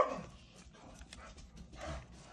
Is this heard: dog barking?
yes